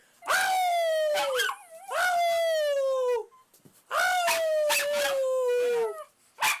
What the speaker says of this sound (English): My dog is just howling for a Clinton presidency